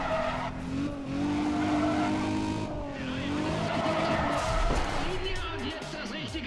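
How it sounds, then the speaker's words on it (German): A car drifts in Need for Speed ProStreet with a sustained tire squeal and skidding screech over a revving race engine, loud and continuous, with someone talking over it. "Man muss natürlich auch mal driften."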